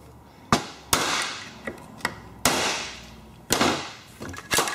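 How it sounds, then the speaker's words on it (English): A hammer strikes a screwdriver to knock out the sump seal on a Briggs & Stratton V-Twin Intek engine, giving about eight sharp, close metallic knocks at irregular intervals, with no talk. "Now I'm going to go ahead and knock the seal out, put the new seal in."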